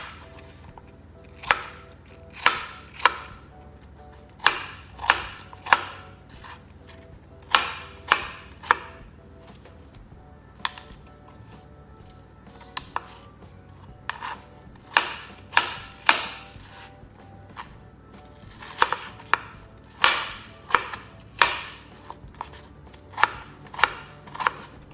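Apples being chopped with a knife on a board for a dairy-free apple and cinnamon loaf, sharp close knocks in quick bursts of several strokes separated by short pauses, with no talking.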